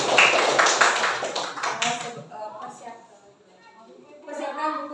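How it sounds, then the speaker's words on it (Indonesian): A classroom of children clapping hands together, a dense burst of rapid clapping that fades out after about two seconds, followed by a voice and an adult's voice speaking. "Ya, tepuk tangan."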